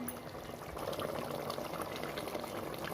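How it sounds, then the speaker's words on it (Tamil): Steady splashing and gurgling of water filling a cooking pot for chicken biryani, a continuous wet rush lasting throughout with no talking. "இனி இதுக்கு தேவையான அளவு தண்ணி ஊற்றிக்கலாம்"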